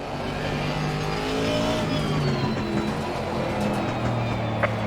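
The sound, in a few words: GT3 race cars on track, Assetto Corsa Competizione video game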